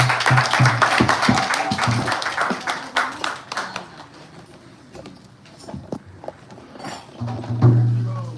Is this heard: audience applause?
yes